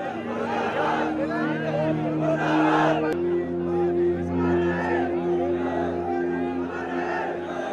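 A crowd gathered around a fallen soldier's body in a Mathura village chants patriotic slogans in loud rhythmic unison, repeated phrases rising and falling over a dense babble of many voices.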